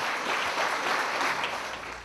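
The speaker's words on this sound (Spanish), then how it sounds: "Fuertes los aplausos." A crowd at a ceremony applauds, dense and steady, with many hands clapping together in a continuous roar that holds at full strength.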